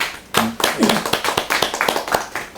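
Audience applause at a panel discussion as a speaker is introduced, a burst of individual claps close by, starting abruptly and continuing in an uneven rhythm.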